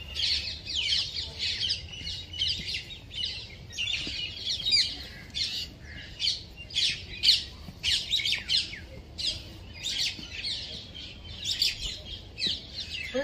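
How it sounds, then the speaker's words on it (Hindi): Many birds chirping and twittering at once in rapid overlapping bursts in Lodhi Garden, Delhi, moderately distant, with a quiet outdoor background and no talking. "तो चिड़िया चिड़ियों की आवाज आ रही है यहाँ तो ना"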